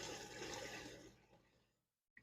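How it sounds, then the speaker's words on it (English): Water swishes around inside a dishwasher running a quick rinse cycle, a loud rushing wash that fades away to near silence within two seconds, ending with a small click. "there's water washing around inside the dishwasher"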